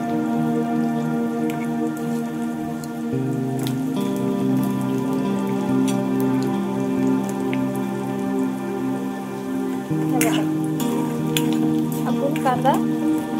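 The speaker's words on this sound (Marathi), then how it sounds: "छानपैकी आपला कांदा फ्राय करून देऊया।" Onion frying in hot oil for a Maharashtrian flat bean curry gives a steady, dense sizzle with crackling pops all the way through. Faint pan and background sounds sit underneath, and no speech is heard.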